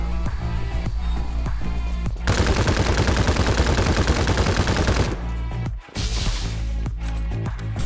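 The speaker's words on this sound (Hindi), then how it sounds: "तभी मेरे पीछे से फायर हुआ" Sustained bursts of gunfire in the battle game Farlight 84, loud and dense through the middle of the clip, rattling rapidly over a busy background of game music and effects, then giving way to quieter sounds.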